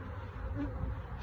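Honey bees buzzing at an out apiary during a honey harvest, a steady, close, low droning hum with no voices.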